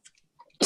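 A single sharp sneeze bursts out loud and close after a brief near-silence with faint small noises in a quiet room.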